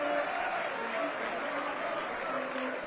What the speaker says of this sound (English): the Leeds fans, they're giving Siu Manafangai a huge cheer as he leaves the field